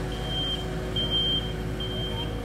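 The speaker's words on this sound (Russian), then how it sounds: "задним ходом, по-моему, едет, поэтому он пикает." An asphalt road roller reversing on a street sounds three evenly spaced, steady electronic beeps over a constant low engine rumble. No one speaks.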